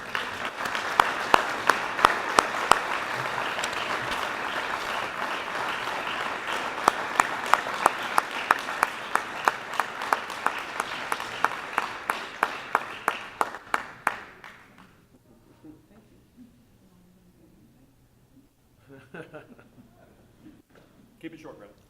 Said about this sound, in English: Let's give a big, warm applause